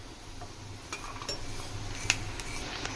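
Peanuts frying in a pan give a soft, steady sizzle, with a spoon scraping and clinking now and then as they are stirred, and no talk.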